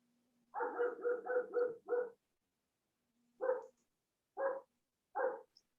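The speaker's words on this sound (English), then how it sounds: "That's Brother Hendrick's dog chiming in" A dog barks in a quick run of five close barks, then three more spaced single barks after a pause, fairly near and clear with no talking over them.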